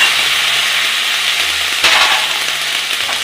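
Water poured into a hot pan of sautéed fig (dumur) curry, a loud, constant, broad sizzle and hiss with a sharper surge partway through, close and unbroken.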